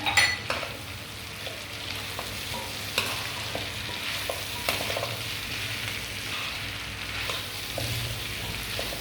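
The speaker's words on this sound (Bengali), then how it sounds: "এবার জলপাইটাকে আমি এই মশলার সঙ্গে খুব সুন্দরভাবে আস্তে আস্তে করে কষিয়ে নেব" Olives being stir-fried with chili flakes and spices in a pan, a steady close sizzle under a spoon scraping and stirring with occasional clinks against the pan.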